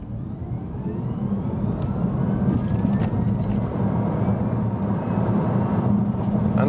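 A BMW i3s electric car at full throttle, a steady low road rumble and wind roar with a faint rising electric whine, heard from inside the cabin and holding level throughout.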